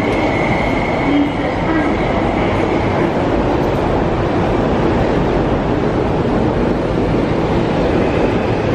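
An MTR Tuen Ma Line train running through Tai Shui Hang station without stopping to pick up passengers, a loud, steady, close roar of wheels and motors filling the platform from start to finish, with faint voices mixed in.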